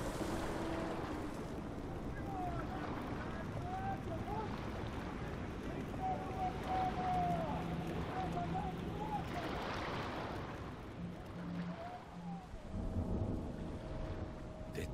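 Heavy waves crash around a shipwreck in the video game Book of Travels, a continuous deep rumbling roar like thunder, with faint tonal music drifting over the surge.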